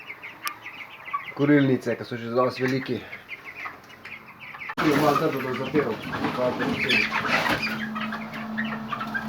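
Chickens cluck and squawk close by around a mobile chicken tractor, bursts of calls mixed with handling noises while people talk.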